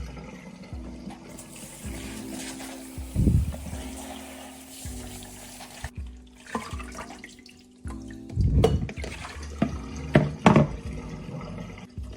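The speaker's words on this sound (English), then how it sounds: "let's come back to our cherry tomatoes and carrots. So let's give that a good rinse" Cherry tomatoes and carrots rinsed under a running kitchen tap, a steady close stream of water with splashing bursts as the vegetables are moved through it, briefly pausing midway.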